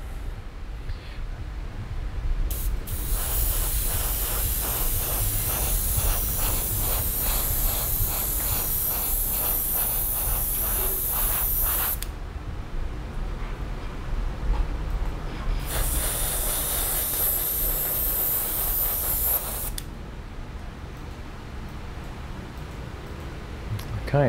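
Airbrush or spray can laying a coat of color shift paint, two long bursts of steady bright hiss separated by a short pause, close and fairly loud.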